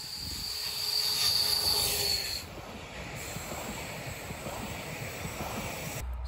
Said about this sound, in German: Zug fährt gleich weiter.